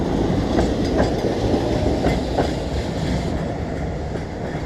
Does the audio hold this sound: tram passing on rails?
yes